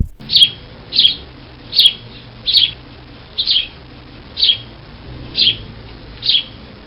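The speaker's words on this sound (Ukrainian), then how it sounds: "це цвірінькає горобчик, його голосок дзвінкий, веселий." A house sparrow chirps eight times in a steady, evenly spaced rhythm, each call short, bright and close, with little else around it.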